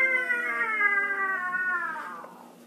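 A cat gives one long, drawn-out yowling meow. It holds steady and close, then slowly sinks in pitch and fades out near the end.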